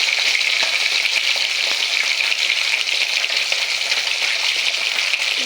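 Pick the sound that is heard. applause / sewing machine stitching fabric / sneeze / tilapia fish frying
tilapia fish frying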